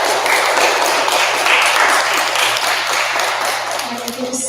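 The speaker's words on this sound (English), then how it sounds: "Let's give a warm round of applause." Audience applause after a science presentation at a Caltech Longevity Club event, a continuous patter of many hands clapping at moderate loudness that thins slightly toward the end.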